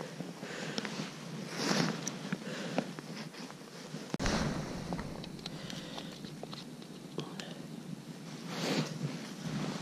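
Steady outdoor wind on a lake during ice fishing rushes and buffets the microphone in uneven gusts, with faint crackles and handling noises mixed in and no voices.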